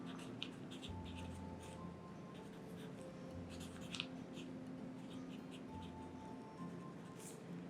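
A pen scratching on paper in a quiet room, soft intermittent strokes and taps close by with a faint background hum.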